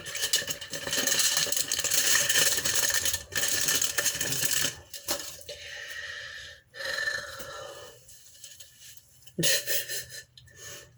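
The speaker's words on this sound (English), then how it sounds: "We're gonna take this off the foil for a second" Aluminium foil being peeled and crinkled off freshly dyed long hair: close, loud crackling and rustling in long stretches with short pauses, the sound stopping and starting as the foil is worked loose.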